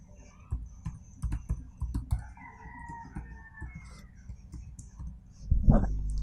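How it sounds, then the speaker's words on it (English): A password is typed on a computer keyboard in a run of close, light key clicks, followed by a louder thump, with a rooster crowing faintly in the background. "I'm just gonna re-enter my password just to be sure."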